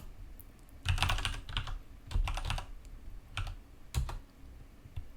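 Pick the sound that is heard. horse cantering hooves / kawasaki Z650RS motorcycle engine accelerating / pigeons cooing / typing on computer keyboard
typing on computer keyboard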